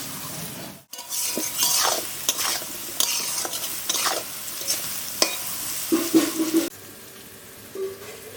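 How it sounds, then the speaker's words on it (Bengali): Potatoes and soybean chunks fry with salt and turmeric in a home kitchen pan, giving a steady close sizzle with repeated stirring scrapes and clinks, alone without talk, quietening near the end. "আলু আর সয়াবিনটা নুন হলুদ দিয়ে ভালো করে ভেজে নিব।"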